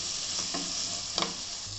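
Masala with coriander leaves cooking on a low to medium flame in a pan for beef biryani, giving a steady soft sizzle with occasional stirring scrapes, close up and without talk.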